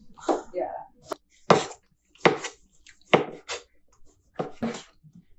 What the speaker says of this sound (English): So I'm starting to cut the onion.